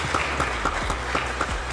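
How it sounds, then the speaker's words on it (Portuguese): Clapping from a small audience at a talk event, with a few distinct sharp claps rising above a steady patter of applause, near and moderately loud. "Um forte aplauso."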